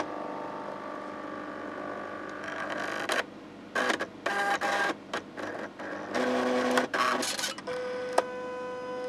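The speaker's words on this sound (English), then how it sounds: "I'll turn the printer on." The built-in printer of an old Canon BN120C laptop starts up with a run of mechanical whirs and stop-start motor bursts, close and moderately loud, with no talking.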